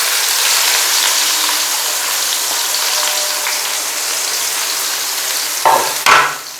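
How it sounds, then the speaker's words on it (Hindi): Chopped onions hit hot oil in a pan for an arbi gravy, producing a loud, bright hiss that slowly settles, then two quick stirring scrapes or splashes near the end, with no voices. "वे प्याज इसी पे ऑयल में डाल देते हैं।"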